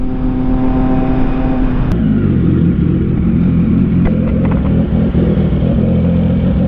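Exhaust of a new Suzuki GSX-S1000 motorcycle roars loudly and close with a steady engine drone. Partway through, the pitch drops and the tone shifts, then the engine holds a lower, rumbling note.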